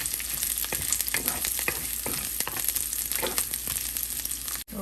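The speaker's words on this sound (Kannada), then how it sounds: "ಒಂದು ಸ್ವಲ್ಪ ಈರುಳ್ಳಿ, ಆಮೇಲೆ ಚಿಕ್ಕದಾಗಿ ಕಟ್ ಮಾಡಿರೋ ಬೆಳ್ಳುಳ್ಳಿ, ಒಂದೆರಡು ಒಣಮೆಣಸಿನ್ಕಾಯಿ ಹಾಕ್ತಾಯಿದ್ದೀನಿ. ಸ್ವಲ್ಪ ಚೆನ್ನಾಗಿ ಫ್ರೈ ಆಗಲಿ." Onion, chopped garlic and a couple of dried red chillies frying steadily in a pan for a ridge gourd and moong bean bassaaru, with continuous close sizzling, occasional stirring scrapes and no talk.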